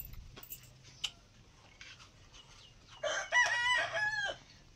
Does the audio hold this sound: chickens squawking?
yes